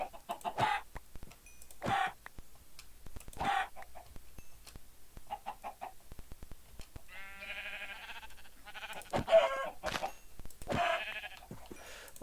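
Chickens cluck in Minecraft in short bursts spread across the span, with a bleating sheep-like call midway and clicking game sounds between, fairly quiet and without talk.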